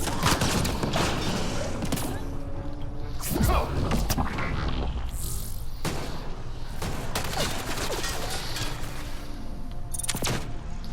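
Sniper and mixed gunfire from the video game Mass Effect: Andromeda, with sharp shots and impacts popping over a steady, dense battle din throughout.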